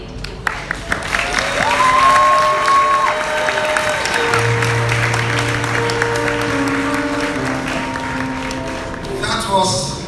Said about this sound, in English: Another round of applause for her, ladies and gentlemen